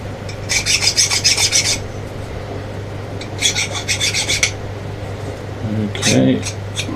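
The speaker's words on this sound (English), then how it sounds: "Just deburr the edges so they don't stick in the vise." Hand file deburring the edges of steel parallels, rasping in two bursts of quick back-and-forth strokes over a steady machine-shop hum, followed by a brief clatter.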